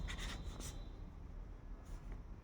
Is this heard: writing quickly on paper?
yes